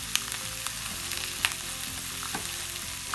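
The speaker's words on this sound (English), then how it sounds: "while my chicken is cooking on all sides" Chicken sizzles and fries steadily in a pan for Brazilian coconut chicken, a continuous close crackle with small pops and occasional clinks of a utensil, no voices.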